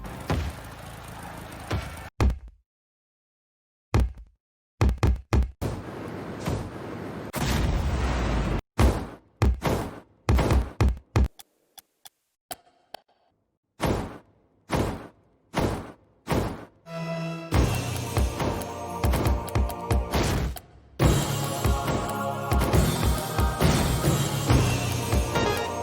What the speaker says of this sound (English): took all the sounds in Rocket League and made a song out of it